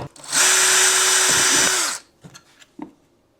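A power drill drives 3mm screws into a ham radio battery power box, a loud steady whine running about one and a half seconds, then a few short clicks and taps of handling afterward.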